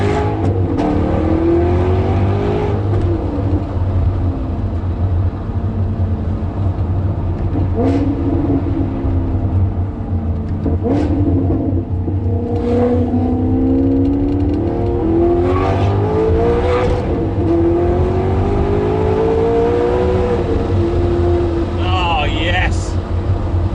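Maserati fitted with a Ferrari V8 revving and accelerating, engine note rising and falling through several gear pulls, loud and close, with an in-car drone underneath.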